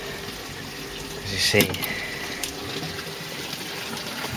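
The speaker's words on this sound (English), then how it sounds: "The aquaponic system, the water filters down from the base," Water flowing through a backyard aquaponics system holding tilapia tanks, a steady gushing trickle throughout with a brief splash in the middle, under someone talking.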